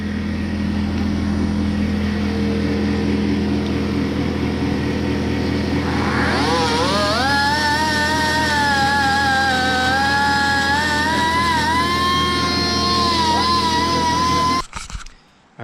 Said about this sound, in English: we have ground off the bolt